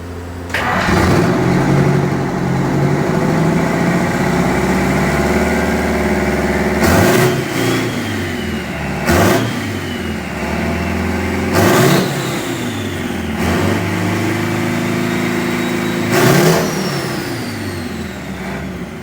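Detroit Diesel 8V92 engine revived after sitting for 20 years, running loud and close with a rough steady idle broken by several sharp revs spaced a few seconds apart.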